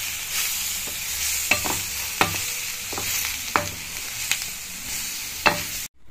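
Ingredients fry and sizzle steadily in a pan, with a utensil scraping and stirring through them in several distinct strokes, close and fairly loud, with no talking.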